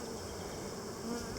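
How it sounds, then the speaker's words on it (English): Honey bees at an open hive during a summer frame inspection make a dense, continuous buzzing drone, close and steady throughout with no voices. "we're going to let these bees keep working on it"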